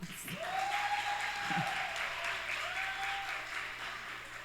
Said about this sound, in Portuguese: Aplaude ela, gente, aí.